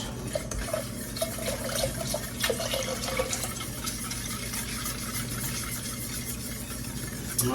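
Milk streams steadily into a pot while a home cook makes a braised beef roast dinner, a continuous soft liquid pour with faint splashing, fairly close, holding an even level throughout with no voices.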